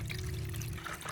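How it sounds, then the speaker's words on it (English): Water poured into a large bowl holding orange peels, a short steady splashing trickle heard close up. "Add more water."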